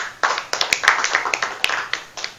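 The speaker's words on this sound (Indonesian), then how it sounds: "Kita beri aplaus." Applause at an Indonesian roundtable discussion on the Omnibus Law, a small group clapping close by in uneven, scattered claps that thin out toward the end.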